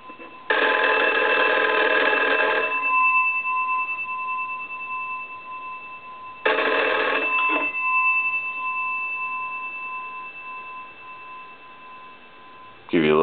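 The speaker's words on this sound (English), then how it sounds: "let the analyzer ring the bell" A vintage Wesco wood wall telephone bell rings loud and close in two bursts, a long ring of about two seconds and a shorter one several seconds later, with a faint hum between and the start of a third ring at the end.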